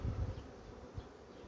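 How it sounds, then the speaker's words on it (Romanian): A hungry, agitated honeybee hive buzzing close by, a low dense drone that swells in short pulses and then settles, no voices. "E foarte, foarte nervos. Așa se comportă un stup care nu are mâncare"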